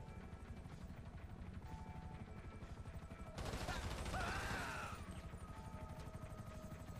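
In GTA 5 Online, a helicopter drones steadily while a burst of rapid gunfire crackles in the middle, moderately loud over the constant rotor hum.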